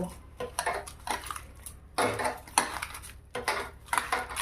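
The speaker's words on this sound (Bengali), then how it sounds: "যে আলুটা আমি সেদ্ধ করে রেখেছি সেটা এবারে মেখে নেব" Boiled potatoes are mashed in a bowl for aloo paratha filling, heard as close, repeated squelchy pressing bursts with dish clinks in an uneven rhythm.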